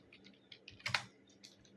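Typing on a computer keyboard to enter a search for accounting software on a desktop PC: a faint string of light key clicks with a brief louder cluster of taps midway, close and alone.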